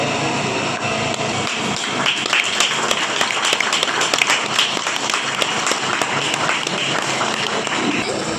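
Applause from the audience at a family gathering award ceremony, with continuous clapping running throughout, mixed with crowd noise and talk over it.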